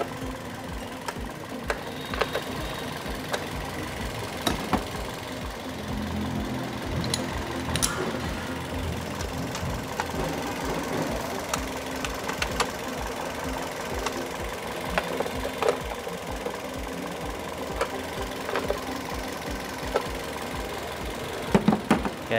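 A Toyota Yaris engine idles steadily after a dead ignition coil was replaced, a continuous even mechanical hum with fine rapid ticking and occasional small clicks, heard close up with no talking.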